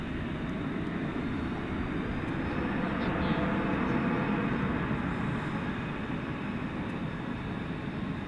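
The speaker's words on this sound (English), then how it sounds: "Spirit 1228 coming in from LAX," Spirit Airlines Airbus A320neo arriving at DFW from LAX at night, a steady broad jet roar holding level throughout, fairly distant with a slight swell midway.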